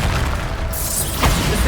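A Bombarda blasting spell explodes in the Hogwarts Legacy video game, a heavy low boom and burst rising out of a constant rumbling battle din, close and loud.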